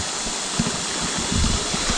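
Clean river stream water flows steadily near the microphone in a rural area with few houses, a continuous broadband rush with some low churning, no voices.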